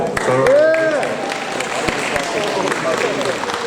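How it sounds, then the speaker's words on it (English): An award ceremony crowd gives a round of applause while voices shout and cheer loudly over the clapping near the start, the clapping continuing underneath afterward. "big round of applause for the zoned in player"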